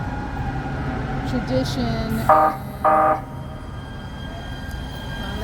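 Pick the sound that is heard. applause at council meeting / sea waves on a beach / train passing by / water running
train passing by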